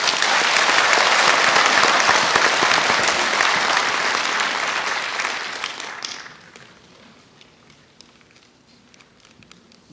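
An audience at a mayoral candidate's campaign speech in Mokpo bursts into loud, dense applause that holds for about six seconds, then thins to scattered claps and quiet.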